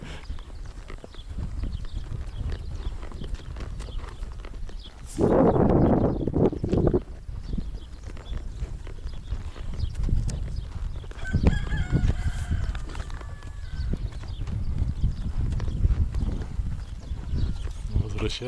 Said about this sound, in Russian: Возвращаются лошади в родные пенаты.